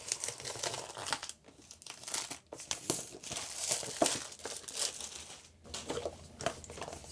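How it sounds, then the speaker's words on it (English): Plastic wrap is peeled and torn off a Google Home Hub product box with a knife, making steady close crinkling and crackling rustles with brief gaps, quiet and alone. "So let's get my knife. Let's peel this off."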